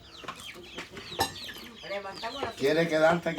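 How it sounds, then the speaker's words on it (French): Hens cluck and squawk up close with a rooster among them at a home in Cuba, a busy, overlapping run of calls that builds louder toward the end. "Lorsque les poules se mettent à chanter, alors on se lève."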